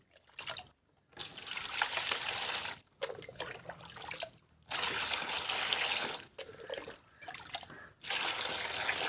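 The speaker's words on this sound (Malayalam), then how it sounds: "ഇപ്പോൾ ഞാനിപ്പോൾ ആ പച്ചക്ക് ഒഴിച്ച് കൊടുക്കട്ടെ" Water is poured onto vegetable plants in a garden in several separate streams, each splashing and trickling for a second or two before a short pause, fairly close.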